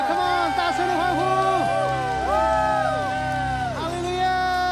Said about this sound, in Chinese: 让我们给神一个最大的欢呼